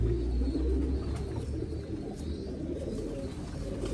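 A small pigeon held in the hand during a check for disease gives soft, low coos over a steady close background rumble, with no talking.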